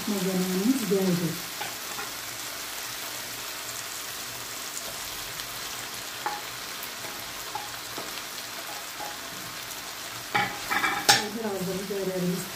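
Green peppers sizzle in a pan with chicken-skin chicken sauté, a steady close frying hiss with occasional stirring clatter and a brief burst of louder scraping near the end.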